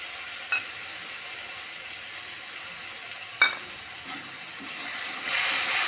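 Tomato paste fries in a pan with a soft, steady sizzle, broken by a couple of sharp utensil clinks, and the hiss swells louder toward the end.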